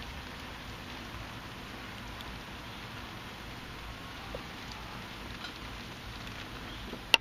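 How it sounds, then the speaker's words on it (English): Rain falls outdoors as a quiet, steady patter of fine drops, soft and continuous, with a single sharper tap near the end and no voices. "It's raining."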